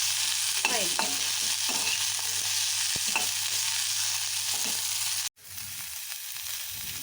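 Chana dal fries in a pan for chutney, a steady close sizzle with a few scraping stirs, then a brief dropout before the frying noise resumes, no voices.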